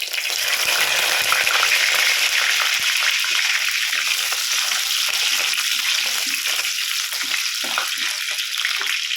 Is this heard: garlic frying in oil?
yes